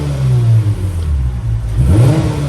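A Lexus IS300 engine with an exhaust leak revs steadily, a loud continuous mid-range drone that dips briefly and then climbs again toward the end, with no talking.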